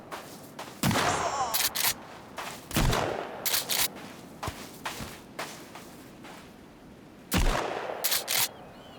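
Video game shotgun blasts boom sharply at irregular intervals, each followed by a short rattling tail and mechanical clicks, fairly loud, with little talk.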